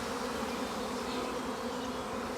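Two honeybee swarms fill the air at an apiary, settling around a hive and a tree branch, producing a dense, continuous buzzing drone that stays loud and even throughout.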